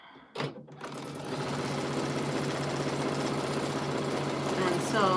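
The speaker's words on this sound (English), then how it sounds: "I'm going to sew just a couple here." Sewing machine stitching fabric up close: a brief clunk, then a fast, even mechanical chatter that runs steadily to the end.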